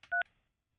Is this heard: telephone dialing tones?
yes